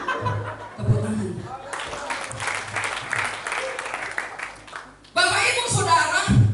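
A room full of people, likely a church congregation, bursts into clapping in two waves, with voices and some laughter mixed in between the rounds of applause.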